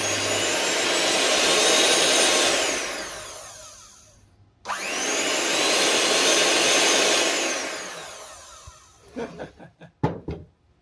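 Repaired Super Mix Turbo electric hand mixer running with a fork in it: two loud, steady whirring motor runs of a few seconds each, separated by a brief stop, followed by short clattering knocks.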